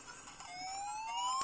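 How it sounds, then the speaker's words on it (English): Police car siren in the Master System racing game Road Rash, a rising electronic wail that starts quiet and grows steadily louder over a second and a half alongside game engine noise. "there's a police car out there"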